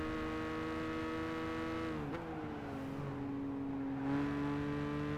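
Droning engine whine of race cars in the video game Gran Turismo 5, pitch sliding down as they pass close overhead, steady and continuous with a faint rise near the end.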